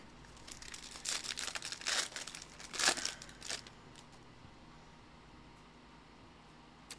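Foil trading card packs being ripped open by hand, a burst of crinkling and tearing over a couple of seconds with one sharper rip, then quiet room hum.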